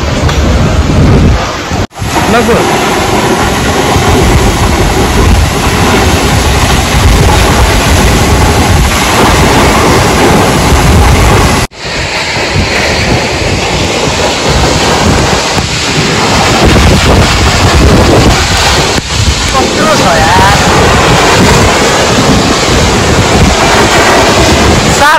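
A waterfall roars loud and close in a continuous broadband rush with wind buffeting the microphone, while a voice speaks briefly over the constant pour of water.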